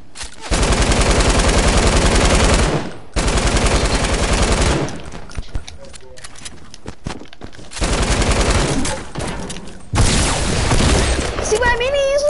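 Rapid bursts of game explosions and gunfire from a quad launcher fired at close range in a multiplayer shooter, loud and repeated in several dense blasts separated by short gaps, with a voice talking over parts of it.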